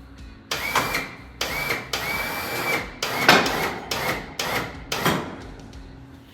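An ATV winch on a 2024 Can-Am Outlander reels in, pulling a snowplow push tube toward the frame. It whines in repeated close, loud bursts separated by brief pauses, about seven pulls in a row.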